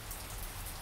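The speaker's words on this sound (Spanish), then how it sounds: "Está lloviendo súper fuerte también" Heavy rain falls hard and steadily, a dense close hiss of drops on surfaces.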